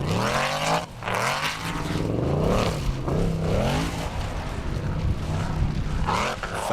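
A Formula Offroad buggy engine revs hard at an Icelandic competition near a river, loud rising and falling high-pitched wails in repeated bursts, close and continuous with no talk.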